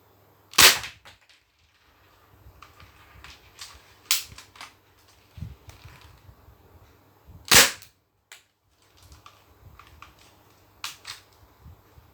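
A Thompson gun fires during an accuracy test, a few sharp, loud, isolated cracks spread irregularly over several seconds, with quieter clicks and handling noise in between.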